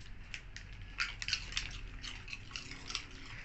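Two dogs crunch on popcorn, with quick, irregular, crisp snaps and bites close by and at low volume, with no talking.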